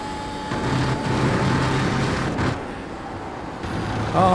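Race car engines in the iRacing sim during the Jerez GP round at Circuito de Jerez – Ángel Nieto, a continuous droning roar with shifting pitch, steady and fairly loud throughout with no talk.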